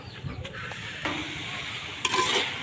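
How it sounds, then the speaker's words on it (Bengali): Freshly picked bathua greens sizzle in hot oil close by, with a few scraping stirs of a spatula breaking up the steady crackle; no one speaks. "তো একটু ভেজে নিই"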